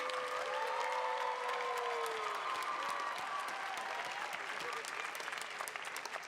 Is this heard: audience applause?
yes